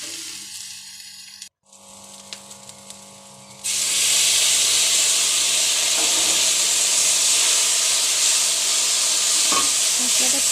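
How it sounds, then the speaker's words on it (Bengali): Spiced masala frying in a pan for a Bengali bhola fish kalia bursts into a loud, steady sizzle and steam hiss when a little water is added, after a quieter stretch of frying with stirring clinks and a brief pause. "একটু সামান্য জল দেবো যাতে মশলাটা পুড়ে না যায়।"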